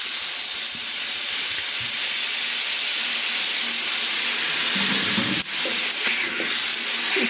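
Water poured into a pan of fried spices while making a kabuli chana and potato curry, giving a steady loud hiss and sizzle that fills the whole stretch, with a few brief clatters near the end.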